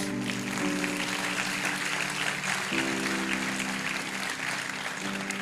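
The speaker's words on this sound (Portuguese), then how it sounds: "Quem concorda, diga amém, aplauda o Senhor Jesus." A congregation applauds continuously, a dense wash of clapping that stays steady throughout, with a sustained tonal hum running underneath.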